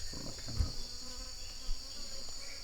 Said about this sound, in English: it's wasps everywhere, flies everywhere